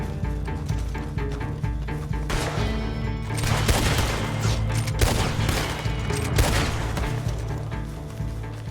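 Rapid gunfire from a Lancaster repeater rifle in a video game, a dense run of loud cracking shots layered over a steady game soundtrack, with heavier bursts clustered in the middle and continuing to the end.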